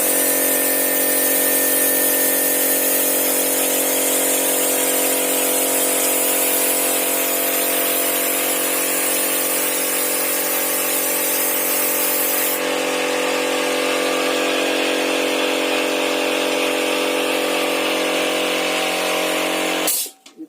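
Compressor-driven spray gun painting wooden wall paneling, a loud continuous hiss with the machine droning underneath for about twenty seconds before cutting off abruptly.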